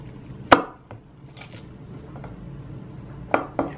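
Knife chopping raw garlic on a board, a few sharp scattered cuts with quiet pauses between them, close and fairly soft, with no voice.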